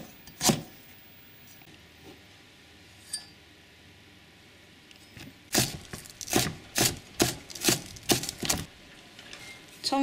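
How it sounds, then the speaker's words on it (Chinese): Close knife chops mince ginger finely on a cutting board, a quick run of about eight crisp strikes after a few scattered taps and a quiet pause, with no talking. "也把它剁成末"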